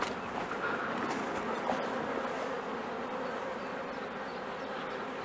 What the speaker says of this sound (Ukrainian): Тут гарненько гудуть. Тут гарненько гудуть. Сюди бджоли є.